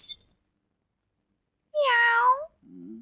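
A cat gives one drawn-out, nasal meow after a stretch of silence, close and fairly loud. A brief faint sound comes before it and a short low murmur follows.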